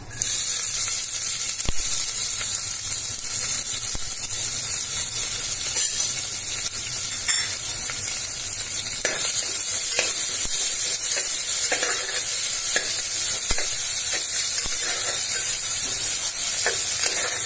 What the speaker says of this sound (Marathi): जिरे आणि एक कांदा बारीक चिरून घेतलाय तो टाकतोय आपण आता.